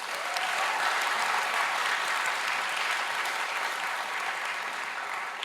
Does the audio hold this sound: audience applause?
yes